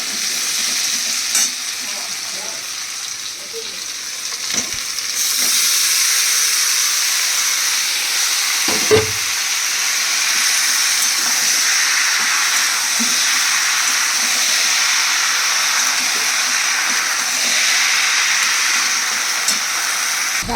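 Banana flower is added to potatoes frying in oil in a pan, giving a steady loud sizzle and hiss that intensifies after about five seconds, with occasional clinks and stirring scrapes.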